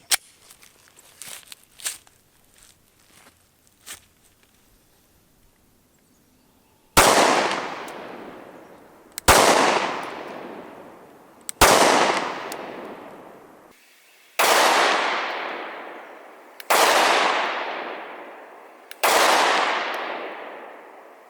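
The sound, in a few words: Glock 43 pistol firing HST rounds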